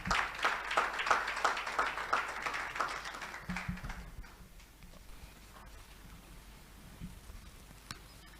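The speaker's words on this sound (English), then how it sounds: "Let's give him a round of applause, please." Audience at a colloquium marking Nigeria's 61st independence gives a round of applause, steady clapping for about four seconds that then tapers off, leaving quiet room tone with a few faint knocks.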